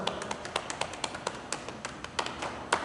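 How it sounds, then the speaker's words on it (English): Rapid hand taps knocking on the sternum during a qigong session, a steady run of light, close thumps with a few sharper accents, no talking. "Now I want you to knock on sternum"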